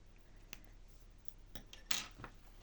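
Scissors snipping yarn while making an amigurumi Kuromi character, a few faint close clicks and one sharper cut, alone in a quiet room.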